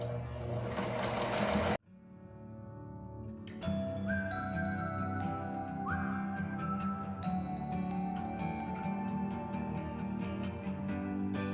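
A sewing machine stitches a classic skirt's waistband to its body, a fast, steady mechanical whirring with ticking that starts after a short pause and runs on continuously.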